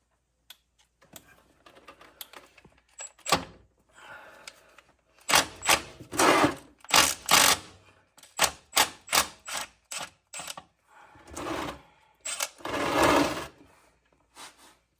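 An impact wrench breaks loose Allen head bolts on a John Deere 3039R compact tractor: short, sharp rattling bursts come in quick clusters, louder and denser midway, with a few separate knocks and quiet gaps between.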